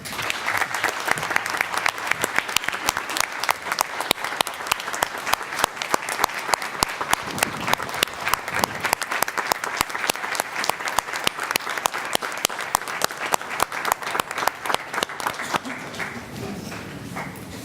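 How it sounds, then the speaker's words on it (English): Sustained audience applause for Yorktown's first New York State tennis champion at a school board meeting, dense steady clapping lasting throughout before tapering off near the end, with no talk over it. "Please join me in giving her a warm round of applause to Yorktown's first New York State champion in tennis, Caitlin Ferrante"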